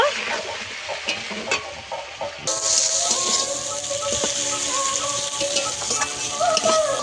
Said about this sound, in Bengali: চিংড়ি মাছটাকে আমি ভালো করে ভেজে নেব